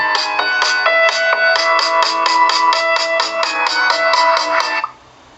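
A bright, tinny melody plays through the small speaker of an Elephone E10 smartphone, rapid repeated notes ringing evenly for several seconds before stopping abruptly.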